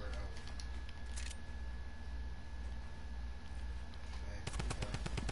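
Video game gunfire rattles throughout, with a dense burst of rapid automatic shots near the end over steady background noise.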